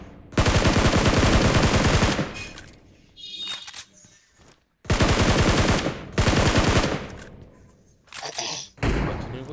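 Bursts of automatic gunfire in the video game PUBG, loud and close: two long sustained volleys, each followed by shorter scattered shots and pauses.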